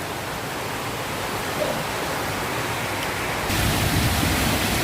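Heavy rain pours down in Lat Krabang after months of hot weather, a dense, loud, steady hiss that grows slightly heavier toward the end.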